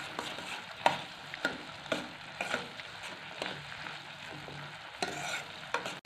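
Kerala-style aravana payasam being stirred in a pot, a spoon scraping with soft repeated strokes over a faint sizzle, no voices.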